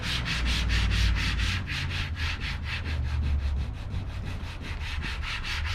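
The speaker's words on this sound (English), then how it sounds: "Let's start getting sanding." Truck wheel flares on a Ford F350 are scuffed up by hand sanding, with rapid, even rasping strokes repeating close up for several seconds.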